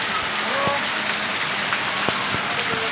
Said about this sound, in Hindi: देखो कितनी खतरनाक बारिश पड़ रही है।